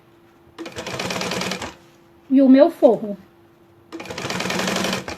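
Sewing machine stitching together the main fabric, zipper and lining of a sublimation-printed bag, a short burst of rapid mechanical stitching between stretches of someone talking.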